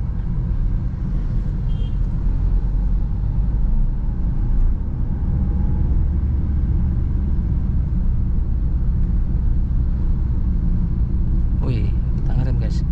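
A car creeps along slowly in first gear on a drive toward Condro Murio, Kudus, its low engine and road rumble steady and close throughout, with a brief brighter rattle near the end.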